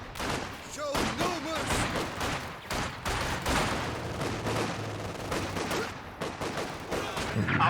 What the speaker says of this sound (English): Machine gun setting up though, getting some big suppression done.